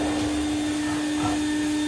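Paint spray equipment running on a low setting inside a garage, a steady droning hum with a fixed tone, close and constant with no talk.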